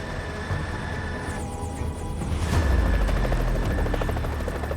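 A helicopter flies over New York City with a loud, steady rotor roar that swells as it passes close overhead.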